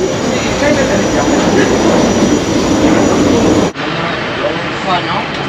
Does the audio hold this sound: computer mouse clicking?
no